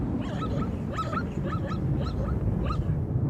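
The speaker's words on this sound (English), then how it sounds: "and no one to hear his feeble calls." A lame zebra foal gives feeble, thin calls as a storm brews, a string of about six short whimpering yelps over a steady low rumble of wind and weather, fairly faint and distant.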